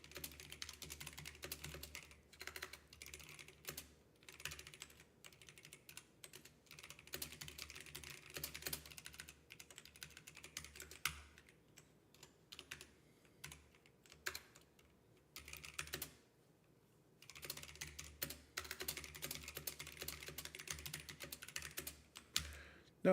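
Rapid clattering keystrokes on a computer keyboard during coding, in bursts with brief pauses and a longer gap near the middle, close and fairly quiet over a low hum.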